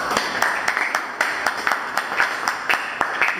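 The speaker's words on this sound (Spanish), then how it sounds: "un fuerte aplauso para los ayudantes en general" Students in a chemistry class applaud their teaching assistants, a short burst of rhythmic, fairly close hand clapping from a small group.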